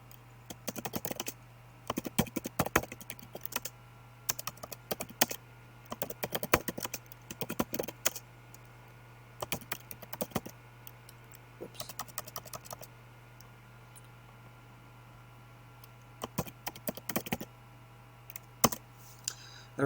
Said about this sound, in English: And then you type in your title.